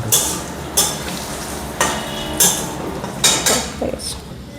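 Big golda prawns fry in a pan, a steady sizzle broken by about five sharp clanks and scrapes of a utensil against the metal, close and fairly loud.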